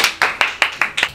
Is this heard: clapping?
yes